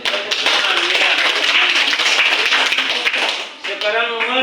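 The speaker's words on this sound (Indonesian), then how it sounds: "Tepuk tangan ya" Classroom applause from students, a dense wash of many hands clapping that fills most of the stretch with voices mixed in, then fades as a teacher starts speaking near the end.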